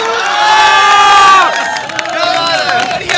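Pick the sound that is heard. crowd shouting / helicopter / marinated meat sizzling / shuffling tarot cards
crowd shouting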